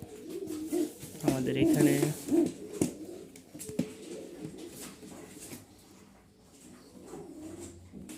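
Rajshahi giribaj pigeons coo close by in soft repeated phrases, loudest early on, while someone talks over them throughout.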